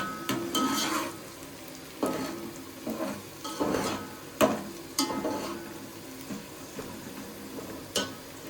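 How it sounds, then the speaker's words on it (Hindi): Okra with tomatoes, ginger paste and turmeric frying in a pan, a steady soft sizzle broken by repeated scraping stirs and light clatters of a utensil against the pan, with no voices. "अभी हम वेट करेंगे कि जब तक ये थोड़ा हल्का फ्राई हो जाए"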